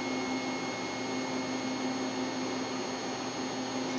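A CNC machine's automatic tool changer under Flashcut control runs with a constant electric whine and steady hum, faint and even throughout with no distinct clunks.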